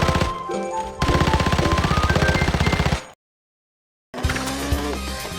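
Rapid bursts of FAL rifle fire in the Arena Breakout game, loud and close, a sustained run of shots that cuts off abruptly, then resumes after a second of silence.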